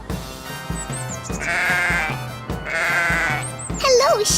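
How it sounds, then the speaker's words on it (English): A sheep bleats in two long, wavering calls over a steady musical backing, loud and close. "There is a sheep over there."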